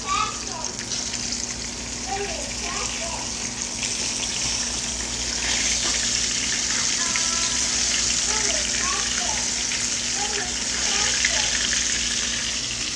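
Fish fillet sizzling in a frying pan as it is flipped, a steady crackling hiss of hot oil with brief clinks and scraping, continuous and close.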